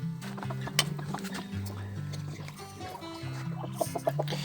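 Rooster and chickens, including newly acquired Sebright bantams, clucking and calling close by in a crowded temporary pen, with steady clucks, a few sharper crowing notes and soft background sounds.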